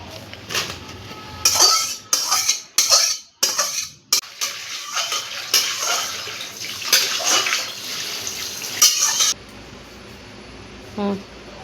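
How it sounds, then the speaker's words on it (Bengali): Boiled Malabar spinach is poured into a basket, its hot water splashing and draining with clattering pot sounds, close and loud, before the pouring stops abruptly and quiet follows. "আমি জলটাকে ঝরিয়ে নেব আমি একটা ঝুড়ির মধ্যে ঢেলে দেবো"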